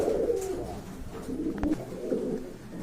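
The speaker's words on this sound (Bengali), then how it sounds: "এখানে আরেক জোড়া কবুতর দেখতে পাচ্ছেন" Pigeons for sale at a market coo in soft, low, rolling calls, close by and moderately quiet, repeating throughout with a faint background hum.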